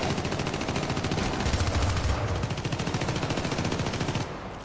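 Rapid, sustained machine gun fire in the Syndicate video game, a dense continuous rattle of shots, loud and close, with no talk.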